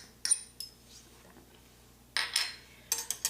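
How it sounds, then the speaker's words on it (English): A spoon clinks and scrapes against the metal pot of an Instant Pot while stirring Cuban-style black beans, sounding as short sharp bursts separated by near silence. "Now we're gonna go ahead and mix the beans"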